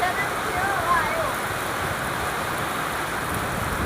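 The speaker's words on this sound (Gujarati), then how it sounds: "જો વરસાદ પડે." Heavy downpour on the day of the Janmashtami festival, a dense, steady hiss of rain filling the whole moment at constant loudness, with no gaps or pauses.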